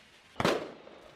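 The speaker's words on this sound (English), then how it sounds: "You're standing on fireworks." A single firework bursts in a Roblox-style multiplayer game, a sharp broadband crack that swells into a short crackling fizz, then fades quickly against a faint background.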